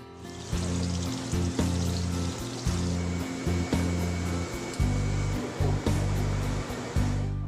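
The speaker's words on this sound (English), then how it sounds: "I'm going to feed the plate into the machine and hit the start button." A digital plate processor runs with a printing plate fed through, giving a steady mechanical whir broken by repeated low pulsing hums that cut in and out in an irregular rhythm.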